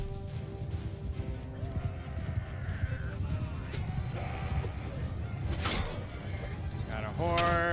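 Galloping horse hooves in a kingdom-building video game, a steady muffled clip-clop rhythm under continuous game noise and a voice talking throughout, with a brief neigh near the end.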